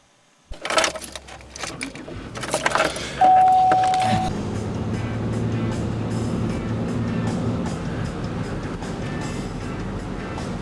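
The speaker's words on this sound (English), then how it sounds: "Say keys." A bunch of keys jangles and clinks in several quick bursts near a car, followed by a car engine starting up and running steadily until the end.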